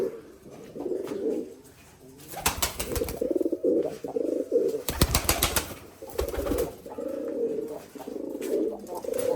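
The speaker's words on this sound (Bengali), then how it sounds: "এই কবুতরগুলো সব বাইরে দিছিলাম অনেকদিন পরে এখনই নামলো" Rajshahi Giribaz pigeons coo softly in repeated bursts as they land after flying, with occasional loud flurries of flapping wings close by.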